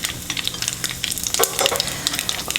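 A teaspoon of mustard seeds and whole chilies fry in hot oil, crackling with rapid sharp pops over a loud close sizzle, plus a clunk of a utensil.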